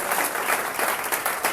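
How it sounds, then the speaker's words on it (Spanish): Classroom applause for a student, a dense, lively patter of many hands clapping close by, with no talk over it. "Un aplauso,"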